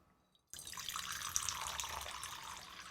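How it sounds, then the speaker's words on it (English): Water pours into a silver-plated bowl, starting abruptly after a brief quiet moment and continuing as a steady, bright splashing stream to the end. "I'm going to pour water into the bowl."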